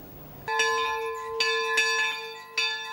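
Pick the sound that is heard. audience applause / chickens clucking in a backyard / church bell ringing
church bell ringing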